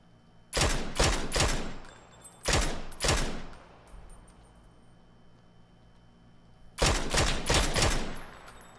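Gunfire in the PUBG battle game: three loud bursts of rapid automatic shots, each about a second long, separated by brief pauses and close to the listener.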